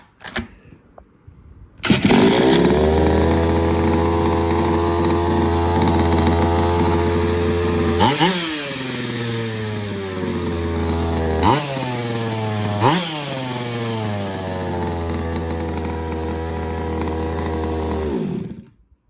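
A two-stroke petrol engine on a 1/5 scale 4WD short course RC truck fires up and runs loud and steady, with sharp revs rising and falling twice mid-run before settling back to a buzzing idle.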